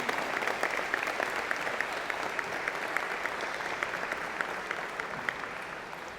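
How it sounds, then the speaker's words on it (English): Audience at a college of engineering and computer science convocation applauds the staff, a steady, even patter of many hands heard from a distance, sustained for several seconds without talking. "Give them a big round of applause, because they are doing an amazing job for our college."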